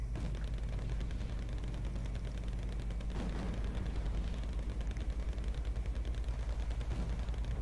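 Bren light machine gun firing in the wartime strategy game Wargame: Red Dragon, a steady distant rattle of rapid bursts over constant low battlefield rumble, with no voices.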